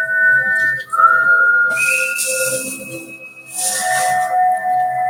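Whistling from a Walking Dead TV episode: several sustained tonal whistles, some gliding, overlapping with breathy hiss bursts, fairly loud and close with brief gaps between phrases.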